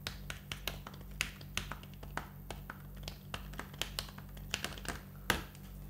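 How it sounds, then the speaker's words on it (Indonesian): Soft, irregular tapping of keys on a thin tablet smart keyboard, light muted clicks at a steady typing pace over a low background hum. "Dibandingkan dengan smart keyboard memiliki suara seperti ini."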